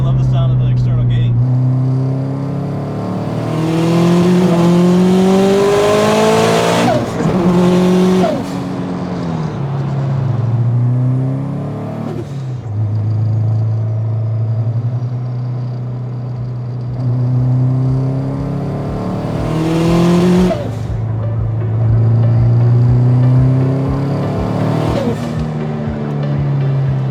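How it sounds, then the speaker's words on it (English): A 700-horsepower STI-swapped Subaru Forester with an external wastegate revs loudly and close by, climbing and falling through several rev cycles with a deep throaty rumble between the pulls. "I love the sound of the external gating."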